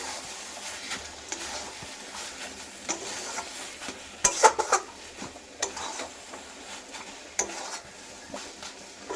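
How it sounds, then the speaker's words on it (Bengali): Spoon scraping and stirring sugar into drumstick leaf bharta in a pan, with a faint sizzle beneath intermittent clinks and a few louder metallic knocks midway; close and fairly quiet, no talking. "চিনিটা দিয়ে নাড়াচাড়া করছি"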